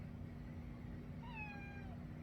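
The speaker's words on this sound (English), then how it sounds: "That is one of my cats meowing." A house cat lets out a single rising-then-falling meow, fairly faint and set back from the listener, over a low steady background hum.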